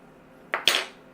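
Spoon scraping baked potato flesh from its skin for twice baked potatoes, two quick close metallic scrapes in succession against a quiet kitchen background.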